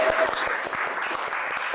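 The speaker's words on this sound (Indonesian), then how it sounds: "Tepuk tangan untuk kita semua." A crowd claps steadily in a brisk, even rhythm, a short burst of applause close by with no voices over it.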